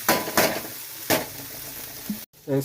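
Potato curry frying in a pan crackles and sizzles with bursts of stirring scrapes, then cuts out briefly before a tonal clink, with no talking.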